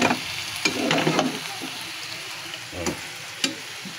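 Eggplant frying in a pan for a home-cooked adobo dish, a soft steady sizzle with a few sharp crackles and brief clinks of a utensil against the pan.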